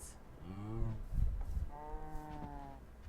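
Two cows in the video game Minecraft give drawn-out, harmonic moos, one after another with a short gap between, clear and moderately loud with no talking.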